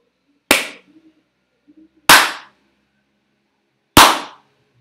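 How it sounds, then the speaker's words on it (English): Three sharp hand claps spaced about 1.5 seconds apart in a small room, each followed by a short fading tail of reverberation and otherwise silence between them. "I will show you another example by clapping"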